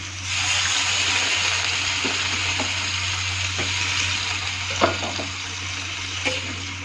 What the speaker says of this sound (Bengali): এখন ওর মধ্যে আমি জল দিয়ে দেবো।